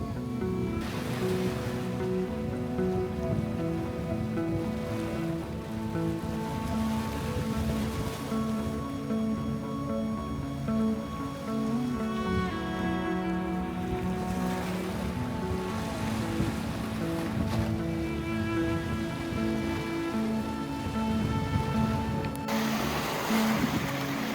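Ocean waves wash steadily on a lagoon beach at Agatti Island in Lakshadweep, a continuous close surf rush with wind, no voices present.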